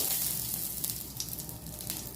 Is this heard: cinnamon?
yes